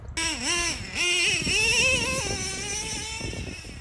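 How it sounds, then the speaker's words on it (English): Nitro-powered RC car engine revving hard nearby, a high-pitched screaming whine that rises and falls in quick throttle blips before holding a sustained rip, alone with no talk. "The thing sounds like a little Formula One car just ripping."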